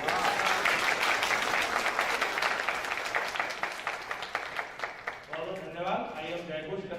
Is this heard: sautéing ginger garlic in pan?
no